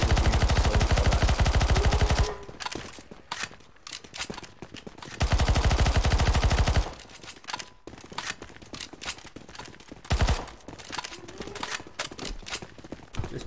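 Rapid automatic gunfire fills a round of CS:GO Zombie Escape as players shoot at zombies, with long dense bursts broken by shorter scattered volleys and single shots, loud and close.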